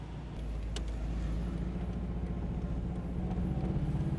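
A 1995 Subaru GC8 on a test drive, its engine droning steadily and close with a continuous low rumble of road and cabin noise throughout.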